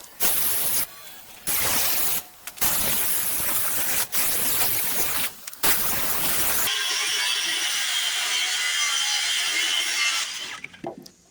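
Angled lumber joists for a shed ramp are cut with a power saw, loud bursts of harsh whining cutting broken by short pauses, then a long continuous cut that tapers off at the end.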